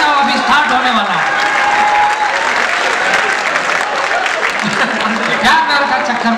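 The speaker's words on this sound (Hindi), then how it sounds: "एक बार ताली बजाओ, अभी स्टार्ट होने वाला है।" Audience at a Hindi comedy show claps in a sustained, loud wave of applause, with a voice speaking over the clapping.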